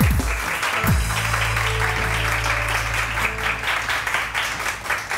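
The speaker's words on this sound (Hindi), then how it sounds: "आप भी कहिए रानी आपा के लिए बहुत सारी तालियां" Studio audience applause on a Pakistani morning talk show, a dense steady wash of clapping filling the whole stretch, with a low musical tone and a couple of thumps near the start.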